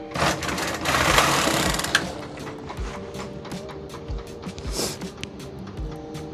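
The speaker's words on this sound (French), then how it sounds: "J'active mon compteur, puis je vais tricoter mes 40 rangs." A Brother KH588 knitting machine knitting rows of wool, the carriage clattering back and forth in a quick mechanical rattle with sharp clicks, close and fairly loud, with no speech.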